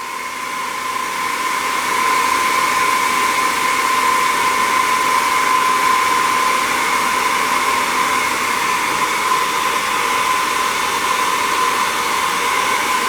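Hair dryer blowing hot air onto a screen protector to loosen its transparent sheet, a steady close whooshing drone with a bright whine running unbroken after a brief ramp-up, no voices.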